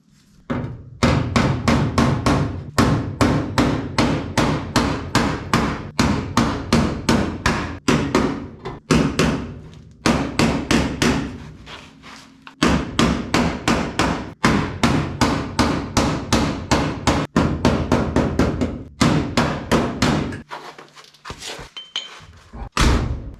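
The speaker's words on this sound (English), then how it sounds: "So I'm gonna tappy tap on it here and see if we can even get it to move over" A hammer taps repeatedly on the door panel of a 1955 Chevy, sharp metallic strikes in fast, steady bursts with brief pauses between runs, close and loud, with no talk.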